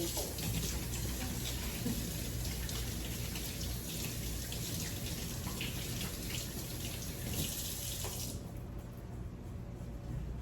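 A kitchen tap runs steadily as hands are washed beneath it, a continuous close hiss of water that cuts off near the end.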